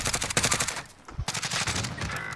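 Rapid gunfire in a battle royale video game, including a sniper shot, comes in loud, dense bursts with a brief lull near the middle before the shooting resumes.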